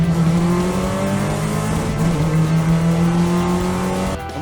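Porsche 944 race cars accelerating hard after a safety car restart, a loud sustained engine roar with rising and shifting tones from several cars close by, fading slightly at the end.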